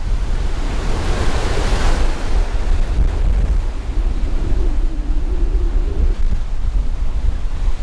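Surf rolling onto the black sand beach at Punaluʻu, a loud continuous roar and wash of breaking waves with wind buffeting the microphone, no voices.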